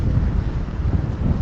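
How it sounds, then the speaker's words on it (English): Breezy outdoor wind buffets the microphone in a steady low rumble, fairly loud and continuous, with no voices. "It's just a little breezy here."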